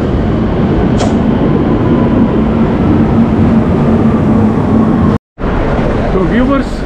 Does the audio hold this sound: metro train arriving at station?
yes